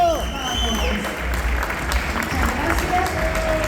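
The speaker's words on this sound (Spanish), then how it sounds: "Lo recibimos con un fuerte aplauso." Applause from a crowd at a talk on cannabis edibles at the Costa Cannabis event, steady and dense throughout, with some voices and a whistle mixed in near the end.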